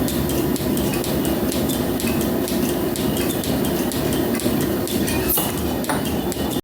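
A metal planer machines a flat surface on a workpiece, producing a continuous mechanical drone with regular, sharp metallic clicks and knocks repeating roughly every half second, loud and close.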